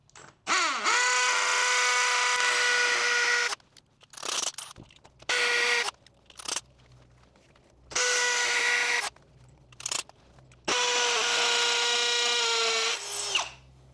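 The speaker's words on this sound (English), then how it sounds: "concrete drill bit or masonry. And then the drill has to move over to the hammer drill function." A hammer drill with a masonry bit bores into concrete for gym flooring in loud, close bursts, about five runs of a few seconds each separated by short pauses and brief whirs as the trigger is eased.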